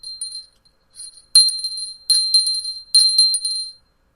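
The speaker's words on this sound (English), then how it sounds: "we got our little bell for the libations in the morning" A small hand bell for morning libations rings in several clear, bright bursts, first softly twice, then three louder shaken peals with shimmering metallic overtones, close and alone with no talk.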